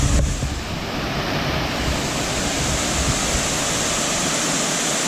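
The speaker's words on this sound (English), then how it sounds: "Just climb down the side to get below the waterfall." Waterfall on the Four Waterfalls Trail in the Brecon Beacons, Wales, roaring as a dense, steady broadband rush of falling water heard up close throughout, loud and unbroken.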